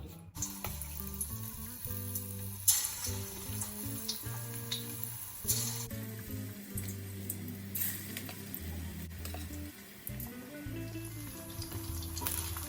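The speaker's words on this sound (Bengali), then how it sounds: "তেল গরম হয়ে গেছে এবার আমি মাছগুলি ছেড়ে দেবো" Steady oil sizzling and crackling of fish frying in a pan, fairly close, with a few faint clinks of utensils and no talking.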